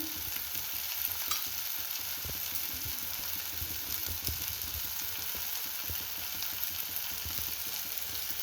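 Grated coconut roasts in a hot pan with a steady, close sizzle and crackle that runs without a break, with a few faint stirring scrapes now and then.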